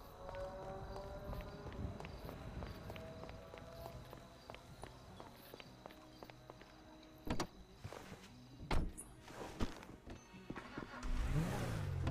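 A car is driven in the video game GTA V. A quiet engine hum runs under footsteps and scattered clunks, and the engine revs louder near the end. There is little or no talk.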